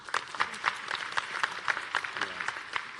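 An audience claps for a presenter at a health programme talk, with rapid, steady applause from a moderate crowd that is fairly close and continuous, no voices over it.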